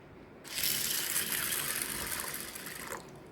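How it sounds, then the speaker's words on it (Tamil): Water is poured from close by into a bowl of chana dal to soak. It starts abruptly as a steady gushing splash, runs for about two and a half seconds, then stops. "இதை நம்ம தண்ணி ஊற்றி ஊற வச்சுக்கலாம்"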